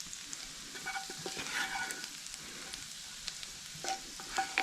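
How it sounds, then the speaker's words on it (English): Butter and garlic sizzling in a pan still holding the flavour of fried salmon, with a soft steady frying hiss and a few light stirring clicks, no voices. "We're deglazing our pan here from all that salmon and all that flavor and all that goodness"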